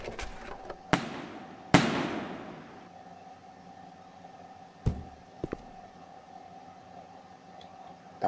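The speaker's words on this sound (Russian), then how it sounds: "Давайте я фейерверк запущу." Several sharp video game firework bursts and crackles go off, one followed by a fizzing trail, over a faint steady hum.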